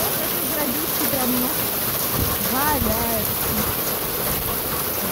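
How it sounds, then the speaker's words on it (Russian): Hail falling outside a window on a June day in Rostovka, Omsk, a dense steady patter of stones that runs without pause, with people talking over it. "Дождь из града, представляете?"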